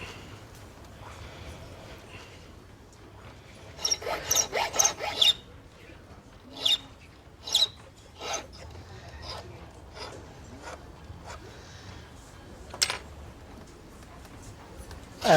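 A hand file rasps along the edges of a wooden piece during a workshop repair, several bursts of scraping strokes in irregular clusters over a quiet background, close up.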